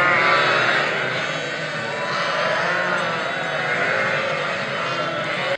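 Sheep and newborn lambs bleating in a flock in Konya, Turkey, in March, overlapping calls continuous and close, loud and layered throughout.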